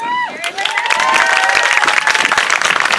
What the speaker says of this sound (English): Please clap for Vanessa.